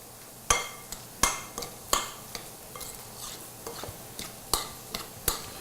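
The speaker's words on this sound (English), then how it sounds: "We're going to stir this together." A spoon stirs peaches and blueberries with sugar and tapioca in a bowl, making a series of sharp clinks and taps at an irregular rhythm. The scraping between the clinks is soft and close, with no talking.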